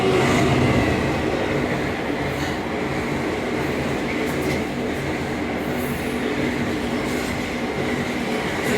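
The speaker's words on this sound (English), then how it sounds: "there's a train coming." A freight train carrying supermarket goods rumbles past nearby in the Scottish Highlands, a steady heavy roar with rail noise that holds loud throughout without pause.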